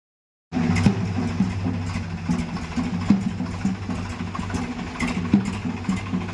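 A tractor's diesel engine starts up and runs steadily at a low, chugging idle, loud and close, with faint knocks over it.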